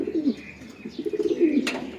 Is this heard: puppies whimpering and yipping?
no